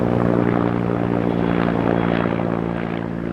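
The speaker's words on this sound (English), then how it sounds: "Of course a helicopter comes." Steady, loud aircraft rotor and engine roar of a helicopter passing overhead, a continuous dense drone that holds for a few seconds and eases off slightly at the end.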